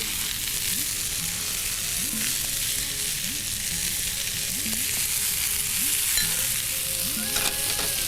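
Green peas salad with large tomato pieces and coriander stir-fried and tossed in a hot pan, a steady close sizzle broken by regular rhythmic scraping strokes of the spatula, no talking.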